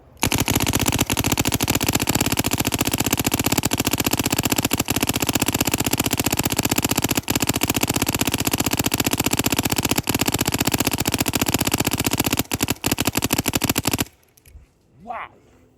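A CS3 paintball marker fed by a JT Triad loader fires a long, dense, rapid-fire burst for about fourteen seconds, loud and close, then stops, followed by brief quieter sounds.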